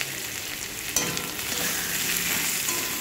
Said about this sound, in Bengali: ঢাকনা খুলে আবার নেড়ে নিচ্ছি।